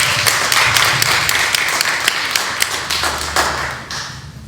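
A crowd claps steadily, a dense patter of applause that stays loud throughout and eases slightly toward the end.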